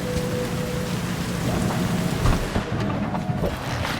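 Steady rain pours through a night scene in the video game Cyberpunk 2077 Phantom Liberty, with low thunder rumbling underneath; a dense, continuous wash of drops without talk.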